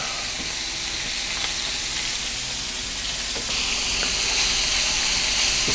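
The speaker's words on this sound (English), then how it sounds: "Going to dump in my onions and garlic" Onions and garlic sauté over high heat in a hot pan, making a continuous hissing sizzle that swells a little louder toward the end, with faint stirring ticks and no talk.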